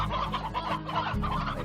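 A chicken in the video game Slime Rancher clucks in quick, close, loud bursts of throaty calls, several in a row over a low background, with no speech.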